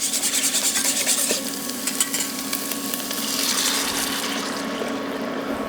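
Beef and broccoli in sauce bubbling and sizzling in a pan, a close steady hiss with some stirring and scraping, no one speaking.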